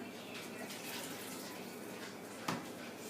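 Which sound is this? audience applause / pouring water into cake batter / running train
pouring water into cake batter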